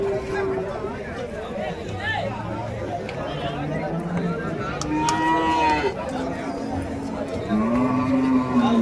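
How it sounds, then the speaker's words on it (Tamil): Large native bulls at the open Friday cattle market in Uthangarai low repeatedly, some deep and drawn-out, some nearer than others, over a busy crowd murmur and nearby talking. "ஸோ நல்லா பெரிய பெரிய காளைங்க."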